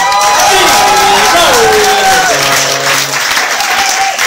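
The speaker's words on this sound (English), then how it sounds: "That's the last time we'll hear from him, so let's applaud." Loud, sustained audience applause and cheering at a live Literary Death Match literary competition event fill the whole stretch, with a voice and tonal sounds running over the crowd.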